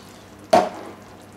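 Tomatoes drop into a pot of Tuscan beef stew with a single sharp splashing plop, close and fairly loud, fading quickly into a soft simmer.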